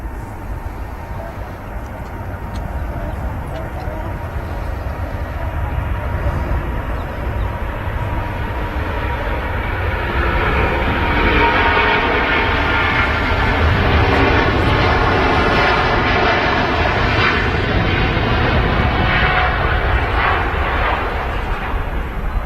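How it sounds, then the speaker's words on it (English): A Singapore Airlines wide-body jet at Manchester Airport spools up and takes off, its engines building from a steady rumble to a louder sustained roar with rising whine, heard alone at close range. "Singapore's spooling up. Enjoy this wide body departure"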